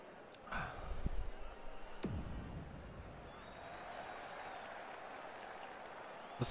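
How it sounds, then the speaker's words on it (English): A hockey arena crowd in NHL 15 roars and applauds in a steady wash as a game heads toward overtime, with a few sharp thumps near the start and a commentator talking over it. "Crowd loving it."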